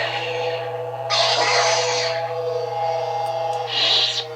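Two Jedi Temple Guard Legacy Collection lightsaber toys ignite and hum, bright crackling bursts at about one second and again near four seconds over a steady low electronic drone, no talking.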